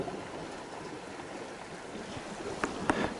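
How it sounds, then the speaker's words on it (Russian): Small waves lap on a slightly choppy sea during a fishing trip near the lights of Enerhodar's power plants, forming a faint, continuous wash with a few soft splashes near the end. "Море маленько неспокойное, чуть-чуть волны"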